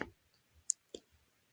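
Two or three quiet, isolated taps on a smartphone screen, sharp single clicks spread apart in an otherwise still room.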